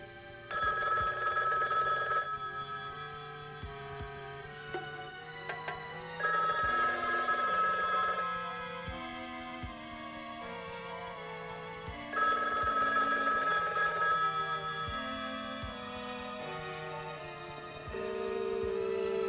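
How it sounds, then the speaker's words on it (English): An old telephone bell ringing in repeated long bursts with short pauses between them, set in a quiet room and heard alone over faint background music. "Rachel, answer the phone."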